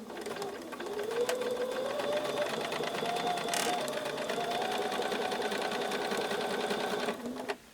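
A sewing machine stitches quilt pieces for a pinwheel star block in one steady, continuous run lasting several seconds, close and moderately loud, then stops abruptly.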